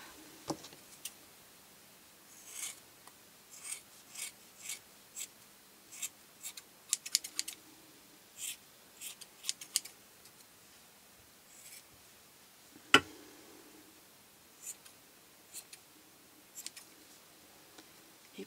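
Scissors trim the fluffy hair of a snowman decoration in quick, quiet, scattered snips and light rustles, close by with no talking.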